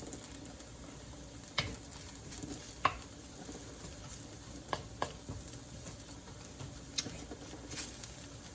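Food fries quietly in a pan on a stove with a soft, steady sizzle, scattered with faint pops and occasional utensil clicks, with no talk.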